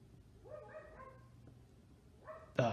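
A dog gives a couple of faint, short barks or yips at a distance, followed by a sudden louder thump, with no talk over it.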